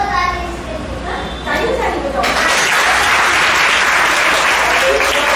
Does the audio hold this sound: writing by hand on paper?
no